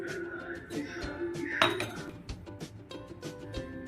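A spoon clinks and scrapes against a bowl as shengole dough of horse gram flour is mixed, with irregular metallic taps and one sharper clang, close and fairly quiet.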